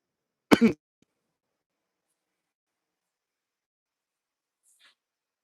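A single sharp, close cough, followed by long silence and a faint small noise near the end.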